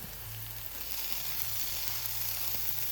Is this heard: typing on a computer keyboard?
no